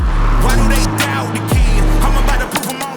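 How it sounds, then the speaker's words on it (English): Ferrari 12Cilindri GT coupe engine pulling hard at full throttle on a highway, a loud, steady multi-harmonic drone that dips briefly and surges again before easing off near the end, heard close from inside the car. "if you're out on the highway as I am right now and the speed limits allow, or if you're on a racetrack, of course you can go the full throttle"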